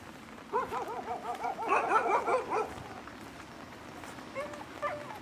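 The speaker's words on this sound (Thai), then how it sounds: "ไม่ต้องเห่าเลย เข้าบ้านไปเลย" A house dog barks at visitors outside a new home, giving a rapid run of close barks, then a few softer yips, with faint talk in the background.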